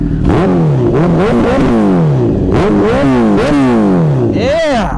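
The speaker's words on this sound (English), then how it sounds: "Listen to this exhaust," A Honda CBR1000RR Fireblade with a Hyperflow aftermarket exhaust revs hard and close, with repeated sharp throttle blips rising and falling in quick succession. A voice briefly speaks over the engine.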